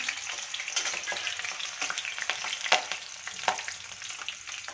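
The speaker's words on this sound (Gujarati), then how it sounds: "આપણું તેલ આવી ગયું છે હવે આમાં આદુ અને મરચાં વઘારમાં નાખી દઈશું" Ginger and chillies crackle and spit in hot oil as a tempering, with a steady broadband sizzle, sharp pops scattered throughout and a few louder bursts, close up with no voices.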